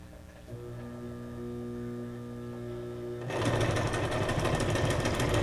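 A sewing machine runs as a steady motor hum for several seconds, then the needle kicks in with a loud, fast, continuous chatter while stitching a paper junk journal flower.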